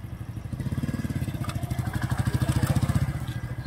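A motorcycle engine runs close by during a riding lesson as the rider works the throttle and releases the clutch: a rapid, even, low-pitched thumping that holds steady and swells slightly, with faint background noise.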